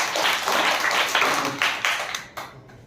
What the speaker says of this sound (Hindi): इसके लिए ताली बजाओ एक बार सारे बच्चे।